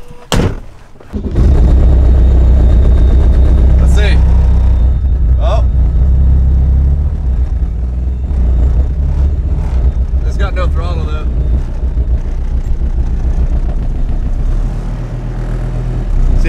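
A diesel Mercedes lurches off in gear along a road, its engine a loud, heavy low rumble with thumps and knocks throughout, recorded close from inside the car while people talk over it.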